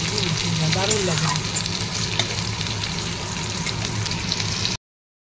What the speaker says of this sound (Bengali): এখানে আমার ফোড়নটা ভাজাভাজি হয়ে গেছে।